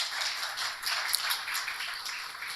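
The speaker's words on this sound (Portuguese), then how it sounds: "As palmas ao senador," Audience applause for a senator at a panel event, a soft, continuous patter of many hands clapping at a distance, fairly faint and even with a few sharper claps.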